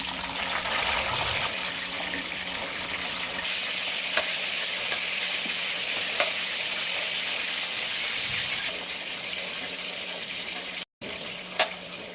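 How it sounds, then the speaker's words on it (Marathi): Cauliflower florets frying in hot oil while a mixed vegetable dish is prepared, giving a steady, close sizzle and crackle that runs the whole time, with a few small clinks and a brief break near the end. "आपण ही फुलवर तेलात तळून घेऊ"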